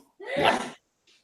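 A single close, loud sneeze bursts out in a kitchen while spice seasonings are being added to a one-pound sausage mix, followed by a brief faint breath.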